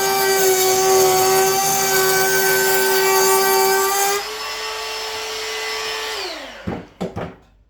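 Ryobi 18V cordless router cutting through softwood, a loud high whining motor that drops in pitch partway through, then spins down, followed by a couple of brief clunks at the end.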